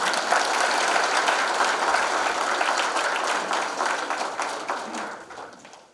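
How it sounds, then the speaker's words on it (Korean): At an Incheon administrative alumni association's annual general meeting, the audience gives Mayor Yoo Jeong-bok a warm welcome with full, dense applause from many hands, steady for several seconds, then gradually thinning and fading out. "힘찬 박수로 환영해 주시기 바랍니다."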